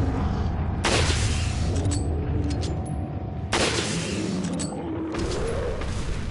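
Sharp pistol shots ring out in Resident Evil 4, two loud bangs spaced a few seconds apart, each with a short echoing tail over low game ambience.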